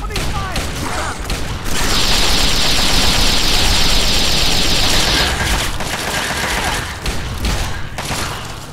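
Sustained gunfire in the Fallout 3 wasteland, a loud continuous burst of shots lasting several seconds amid game noise, with a voice talking around it.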